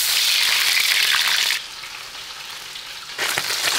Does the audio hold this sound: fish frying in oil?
yes